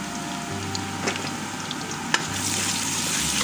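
Ginger garlic paste sizzling with already fried onions in a hot pan, a continuous crackling fry with a few sharp stirring scrapes and a low hum underneath, no talking.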